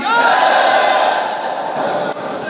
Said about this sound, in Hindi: जोरदार जयघोष करेंगे और भारत माता की भारत माता की